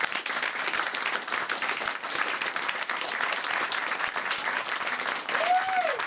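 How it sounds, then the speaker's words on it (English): An audience applauds the competing teams at the 2014 National Economics Challenge in New York, steady dense clapping filling the room throughout with a brief whistle-like tone near the end. "one more round of applause for all the teams who competed, both here in New York and around the country"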